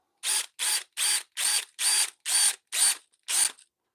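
An electrician's cordless drill runs in eight short, evenly spaced bursts of whirring as the trigger is squeezed and released, each burst loud and close with brief silences between.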